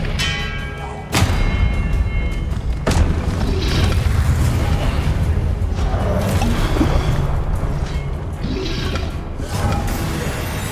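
Loud, continuous booming blasts and thuds from fire spells in the video game Hogwarts Legacy, one heavy impact after another over a dense rumbling background.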